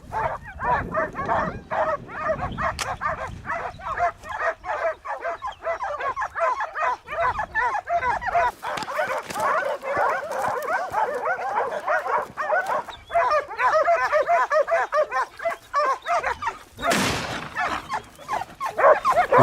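A large pack of hunting dogs bays and yelps frantically at a cornered wild boar of over 400 pounds, with dense overlapping barks, whimpers and yips that continue without a break throughout, loud and close.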